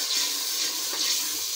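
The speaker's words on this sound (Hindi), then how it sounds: "अब हम इसके अंदर थोड़ा सा पानी लगाते हैं" Water poured into a pan of chopped onions cooking on the stove, giving a steady, close hiss and bubbling sizzle that runs the whole time with no voices.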